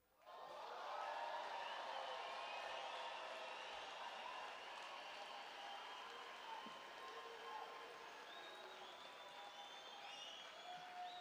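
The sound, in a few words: audience applause at commencement ceremony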